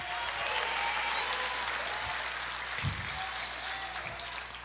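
A church congregation claps steadily for several seconds at a Portuguese-language sermon, a dense, even wash of applause throughout with no break.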